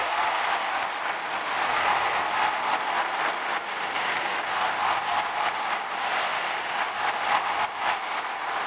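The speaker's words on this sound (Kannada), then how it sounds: "ಬರ್ಲಿ ಜೋರ ಚಪ್ಪಾಳೆ" Loud, steady applause from a studio audience on a Kannada TV game show, continuous for the whole stretch as a contestant is welcomed, with no voices over it.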